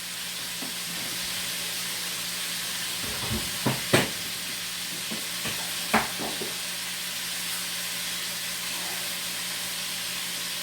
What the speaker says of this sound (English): They're frying so nicely crispy, just the way that I like it.